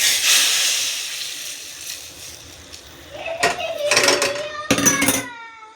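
A hot spiced tempering hisses as it is poured into an egg curry, the steady sizzle flaring into louder bursts of crackling and clattering from the pan, with a voice briefly heard.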